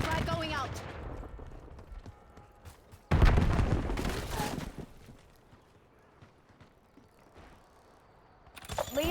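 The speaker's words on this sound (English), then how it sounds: "Frag going out." A frag grenade bursts in the Call of Duty Black Ops 7 video game, a loud, close blast that rumbles for about a second, surrounded by quieter game noise and voices.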